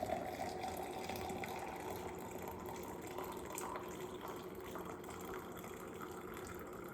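Coffee pours steadily and continuously from a French press for several seconds, a close, even trickling gush with no voices.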